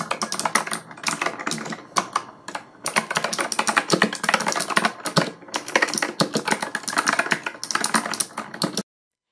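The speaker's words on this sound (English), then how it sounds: "Now, let's highlight the keyboard's clicky sounds." Rapid, continuous typing on a Razer Huntsman Mini keyboard in Mercury White with optical switches and double-shot PBT keycaps, producing dense, crisp clacking keystrokes close up, with brief pauses between bursts.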